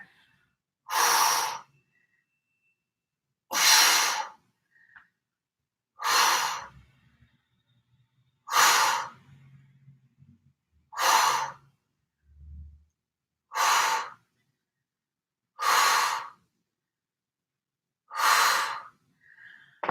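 Heavy rhythmic breaths during an ab workout on the floor, eight loud, forceful exhales spaced a couple of seconds apart, close to the mic with silence between.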